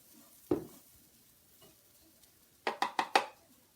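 Flour being stirred into oil in a pot: a single scrape, a quiet pause, then a quick run of four close spoon knocks and scrapes against the pot.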